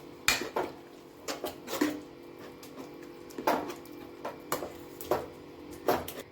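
Spoon scraping and clanking against a pot while potatoes are stirred into a chickpea curry gravy, a series of sharp irregular knocks over a quiet kitchen background.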